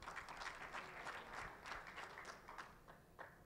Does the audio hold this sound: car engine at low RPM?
no